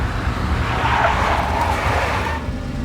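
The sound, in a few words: big black Mercedes car skidding in video game Max Payne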